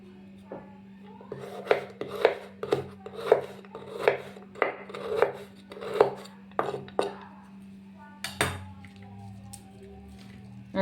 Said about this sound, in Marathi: खोबऱ्याचे पण छोटे छोटे काप करून घ्यायचे।